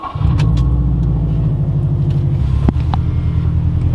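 Exhaust of a car fitted with an N1 baffle, heard from inside the cabin: a steady, loud, low rumble that holds throughout with a brief bump near the end and no talking.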